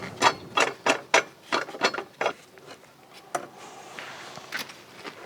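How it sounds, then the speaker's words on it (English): A 1/2-inch ratchet snugging the straps of a pipe tapping sleeve: a quick run of sharp, close clicks that slows and grows sparser toward the end, with no talking. "we always snug these up with a 1/2 inch ratchet before we go through the torque sequence"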